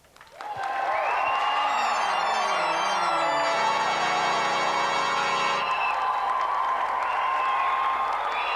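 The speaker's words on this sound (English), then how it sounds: "Round of applause for Doug, everyone." Studio audience applauding a contestant on a 1992 video game show after his challenge ends in failure, a sustained wash of clapping that rises quickly and holds steady under bright electronic game music with melodic tones.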